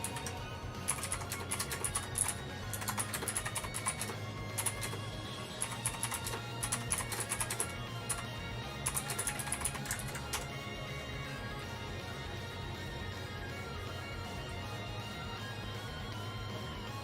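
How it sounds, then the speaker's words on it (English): Rapid computer keyboard typing, close and fairly quiet, comes in bursts of clicky keystrokes with short pauses between runs, fading to sparse taps near the end with a steady background hum. "That keyboard ASMR though"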